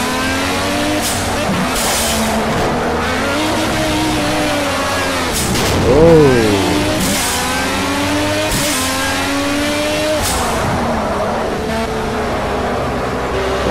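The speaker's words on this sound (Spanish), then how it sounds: "estoy conociendo el coche que se derrapa bastante" A race car in Project Cars on PS4 skids and slides on track, engine revving up and down with tires squealing loudly through corners, continuous and close throughout.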